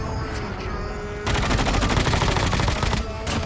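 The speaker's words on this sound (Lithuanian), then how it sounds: "Ai, kažkas šaudo." Gunfire in the mobile shooter Call of Duty Mobile: a quieter stretch gives way to a loud, sustained burst of rapid automatic fire lasting almost two seconds, then a short pause and another burst.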